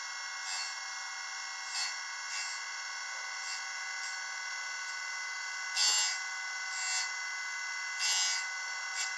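A steady high-pitched metallic whine as a carbide lathe tool is sharpened on a KunMing KMX10 grinder, the misaligned raised carbide insert rubbing in periodic gritty scrapes that swell and fade every second or so.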